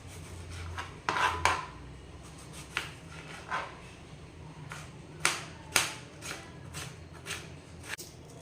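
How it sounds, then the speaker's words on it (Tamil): Small shallots and two tomatoes chopped for a fish curry (vavval fish kuzhambu) in a home kitchen, heard as close, irregular knife taps and clacks on a board, spaced out with brief pauses. "குழம்புக்கு வந்து சின்ன வெங்காயம், 2 தக்காளி, இதை வந்து கட் பண்ணிக்கலாம்"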